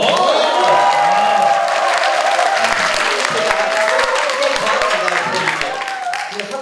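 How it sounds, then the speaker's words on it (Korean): Loud studio-audience applause with some cheering on a Korean talk show featuring a laughter-therapy lecturer, steady dense clapping that stays strong throughout, with voices and tonal sounds mixed in beneath it. "박수 한번 주세요."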